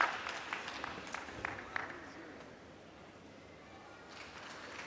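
Applause at a table tennis match, a short burst of clapping from a small crowd early on that fades into quiet arena murmur, with commentary voices over it.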